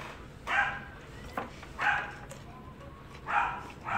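A dog barks in three short bursts spaced about a second apart, fairly close, with quiet background between barks.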